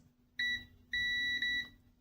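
A multimeter beeps on a continuity test while probing a Samsung Galaxy S10e board for a short on the VPH power line, two short high tones followed by a longer one, clean and close.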